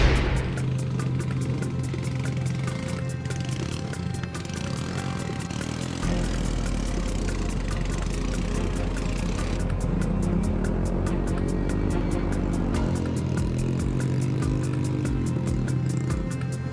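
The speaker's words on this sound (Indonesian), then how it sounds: "Tanjakan yang curam membuat motor berat untuk melaju." A motorcycle engine labours with a continuous mid-pitched drone on a steep, narrow, slippery plantation road, holding steady and then shifting in load throughout.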